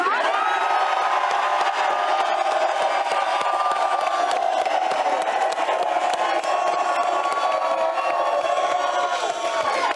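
A studio audience crowd cheers and roars loudly and without a break at a Super Bowl LVII show, a thick, steady wall of shouting and whooping that fills the room.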